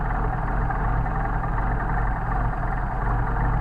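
A Mercedes 190SL engine with Solex carburetors idles steadily while warming up, giving a close, continuous, even rumble with no voices.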